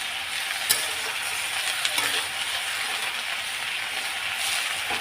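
Potatoes sizzling in a hot pan on a home stove, a steady close crackling hiss with a few sharp clinks of a utensil against the pan.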